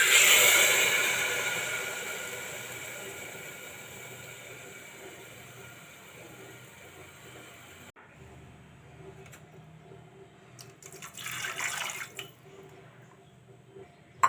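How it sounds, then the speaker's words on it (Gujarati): Water pours steadily into a metal pressure cooker holding rice and chana dal, loud at first and gradually softening, with a brief splashy burst near the end. "તો પાણી પણ આપણે નાખી દઈશું."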